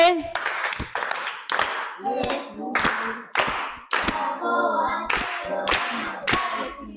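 A group claps in a firm, rhythmic beat for a student at a school, roughly a dozen sharp, close claps over about seven seconds, with voices chanting or calling between them.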